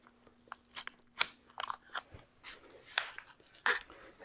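Frog painter's tape being stretched and pressed onto a furniture leg: close, irregular crinkly peeling and crackling bursts with short pauses between them, no voices.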